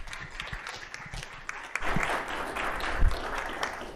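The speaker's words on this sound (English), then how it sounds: "let's give her a warm round of applause." Audience applause for the state demographer at a demography presentation in Castle Rock, a moderate wash of clapping from a room that swells partway through and keeps going steadily, fairly faint and without voices.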